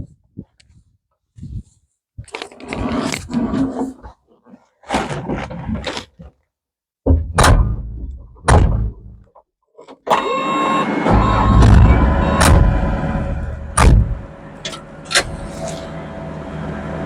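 A GroundHog BH70D backhoe running at steady throttle: intermittent bursts of hydraulic whine and engine noise in the first half, then continuous loud engine drone with clanking, close by, with someone talking over the opening part.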